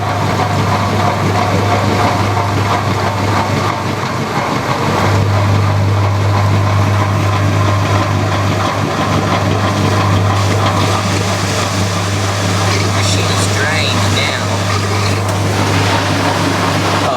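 Several washing machines (Whirlpool, Maytag, Bosch) run together while one drains, a loud, steady low pump hum over sloshing water and mechanical noise, continuous throughout.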